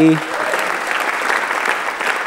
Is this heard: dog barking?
no